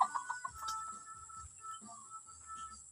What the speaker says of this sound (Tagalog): Ano, daming manok dito guys, may pangsabong dito.